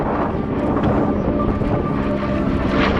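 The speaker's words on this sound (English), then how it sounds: "Crisp 4-point roll in the Corsair." Steady, dense roar of an FG-1D Corsair propeller engine with wind buffeting during a four-point roll at an airshow, continuous and loud throughout with no pause.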